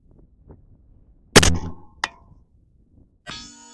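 A rifle round strikes a steel target 1,100 yards away: a sharp distant gunshot crack followed by a ringing metallic clang, then another brief clang and a later ringing tone, with silence between.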